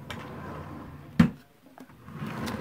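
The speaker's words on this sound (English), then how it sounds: "Now, here's some drawers." Bedroom dresser drawer shutting with a single sharp thump amid quiet room tone, followed by faint rustling, no one speaking.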